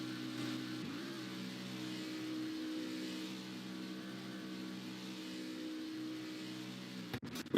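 Race car engines drone and hum in a racing video game set at Kansas, a steady mid-pitched roar holding throughout with slight shifts, ending in a couple of sharp louder bursts.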